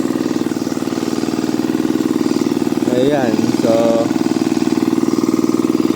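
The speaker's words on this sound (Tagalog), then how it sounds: "isang makina lang na lang umaandar" A boat's engine idles with a steady, rapid, close throbbing chug running evenly throughout, while someone speaks briefly over it midway.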